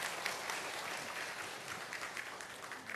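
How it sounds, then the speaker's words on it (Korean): Church congregation applauding, a dense, even wash of many hands clapping together at close range, steady for the whole stretch with no talk over it. "우리 제가 전해드릴 때 박수 한번 쳐주십시오"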